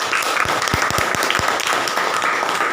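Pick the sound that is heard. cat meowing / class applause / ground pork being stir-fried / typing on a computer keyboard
class applause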